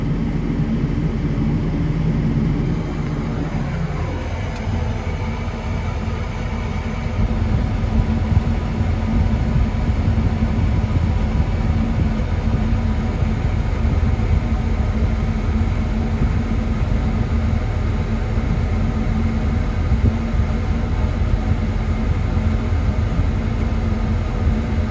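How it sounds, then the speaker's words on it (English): A forage harvester chops dry second-cut silage in a field, a loud continuous mechanical roar with a steady drone that holds unbroken throughout, heard up close. "So Dad's chopping in here now."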